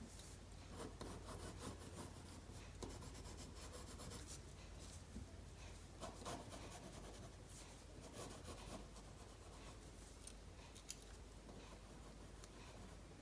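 Graphite pencil sharpening the midline of a drawn mouth on paper, a steady close scratching and rubbing of strokes running throughout with no talk.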